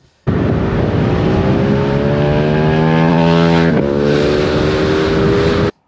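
A Ducati Streetfighter V4S motorcycle with a 208-horsepower engine that redlines at 14,500 RPM revs loud and close, its pitch rising in one steady, harmonically rich roar, with a brief dip partway through before climbing again.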